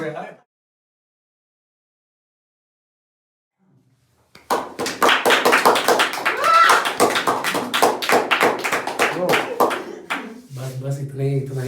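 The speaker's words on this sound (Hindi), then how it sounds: "इतना ही स्वागत बहुत होता है, इससे ज़्यादा तालियां सहन भी नहीं होती अपने को" A stand-up comedy audience bursts into rapid, dense clapping that swells loudly, then fades as the comedian starts talking over the tail end.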